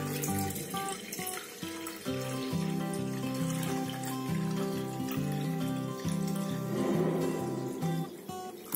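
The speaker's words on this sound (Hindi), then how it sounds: "मैं यहाँ पानी गर्म कर रही हूँ चाय बनाने के लिए" Water runs from a kitchen tap for making tea, a steady close splashing stream with shifting tone as the vessel fills, heard alone without speech.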